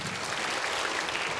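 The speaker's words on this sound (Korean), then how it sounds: "박수 한번 합시다." A church congregation at a Korean evening worship service applauds in a brief, dense, even burst of clapping that fills a large hall.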